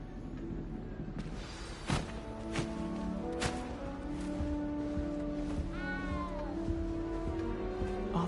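A cat in the Hogwarts Legacy video game meows several times, drawn-out plaintive cries with a couple of sharp wavering ones, clear over soft game music.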